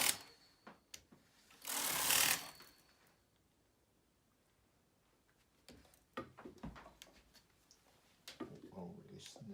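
A knitting machine carriage sweeps across the ribber during an Australian cast-on, giving one brief, loud rushing pass among faint clicks and handling noises, with quiet voices in the background.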